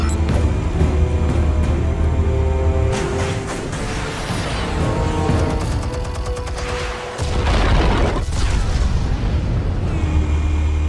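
Explosives going off in Batman: The Telltale Series, with loud deep booms and rumbling blasts. A big burst near the start gives way to a sustained roar, then another heavy detonation swells in after a short dip, under a dense game soundscape.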